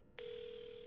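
A telephone line in the horror game Paranormasight starts a steady tone after a short quiet moment, holding a single unbroken pitch close and clear, as when a phone is picked up to dial an ambulance.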